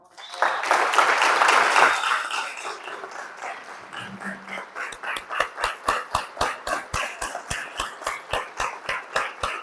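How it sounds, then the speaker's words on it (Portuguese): A church congregation at a Sunday family retreat service bursts into loud applause that thins out, then settles into steady rhythmic clapping in time, close and continuous. "Você pode aplaudir Jesus?"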